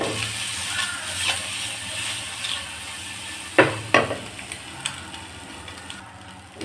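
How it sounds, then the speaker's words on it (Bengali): Eggs fry in a frying pan in a little oil, giving a soft, continuous sizzle with a few sharp pops and utensil clinks, close and fairly quiet with no talk. "ডিমটা ভাজা হয়ে গেছে"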